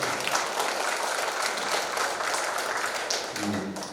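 A crowd at a Korean business briefing applauds without a break to welcome a senior association chairman, a dense, even wash of clapping that is close and sustained throughout.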